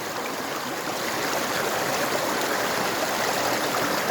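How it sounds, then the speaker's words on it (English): River in Pasighat flowing as a steady, loud, close stream of rushing water, an unbroken hiss and burble with no voices. "the beautiful river"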